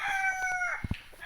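A white stag broodcock crows once, a short, clear call at moderate distance, followed by a couple of brief clucks.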